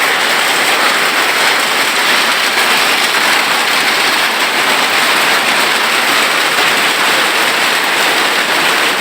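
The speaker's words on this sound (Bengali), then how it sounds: "এই ধরনের শিলাবৃষ্টি এর আগে কখনো আমি" Hail pours down in a heavy storm in Africa, a dense, steady hiss and patter of ice striking surfaces that stays loud and unbroken throughout, with no voices.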